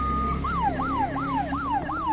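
A toy ambulance siren wails in a quick repeating up-and-down pattern, five or six cycles, loud and close, with no talking.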